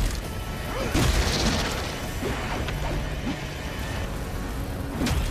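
Muffled booms and crashes of explosions in Atlas Fallen go off every second or so over a rumbling backdrop, with no one speaking.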